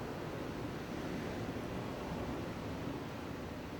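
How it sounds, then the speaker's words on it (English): Ocean waves wash in a steady, unbroken roar of surf ambience, a soft, wide hiss with no distinct breaks or voices. "that's what I'm listening to tonight. Fire and ocean waves."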